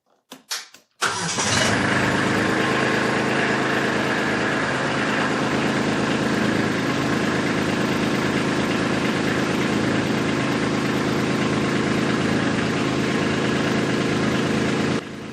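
A Kubota LX-series tractor engine cranks briefly, catches, and settles into a steady, loud idle with a low diesel rumble that continues throughout.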